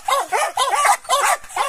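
Two female dogs bark at night in quick, repeated bursts of close, loud yelps and barks with short pauses between them.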